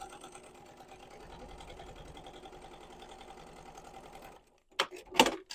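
A sewing machine with a 1/8 inch foot stitches a narrow hem on a sling bag in a steady rapid whir for about four seconds, then stops, followed by a few soft handling clicks and knocks.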